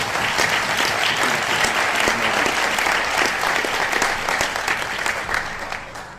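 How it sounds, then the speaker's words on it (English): Audience at a union district conference breaks into sustained applause, dense and loud clapping throughout that tapers slightly at the end. "give her a round of applause anyway"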